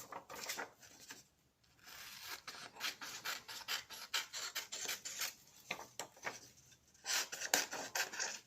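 Scissors cutting through glossy magazine paper in bursts of close, crisp rasping snips, with short pauses between cuts and no talking.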